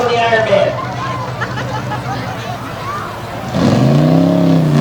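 Iron Man, a big black Yukon monster truck at a Bangor, Maine monster truck show, roars as its engine revs hard at full throttle, rising sharply near the end above crowd murmur and an announcer talking.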